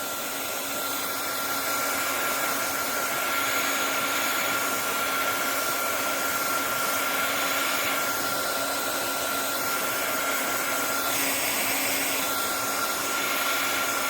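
A heat tool blows steadily on a polymer clay pendant, giving a continuous loud airy whoosh with a constant motor hum, unbroken for the whole stretch with no talking.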